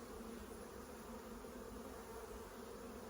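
A late-season honey bee swarm fills the air with a steady, dense buzzing drone, close and continuous with no talk.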